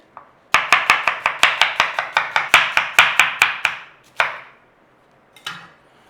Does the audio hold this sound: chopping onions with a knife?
yes